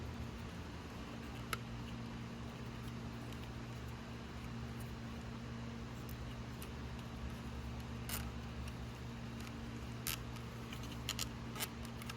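Flush cutters snip zip ties on the wire bundle of a Hoover Platinum UH30010 vacuum during cord replacement, giving several sharp, quiet clicks scattered irregularly over a steady low motor hum, with no talking.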